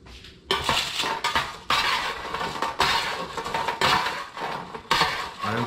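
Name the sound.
crispy potatoes tossed with rosemary in a pan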